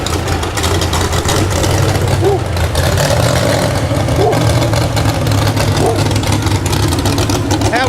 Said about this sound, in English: Straight pipes, give you an idea just how an engine without a muffler would sound.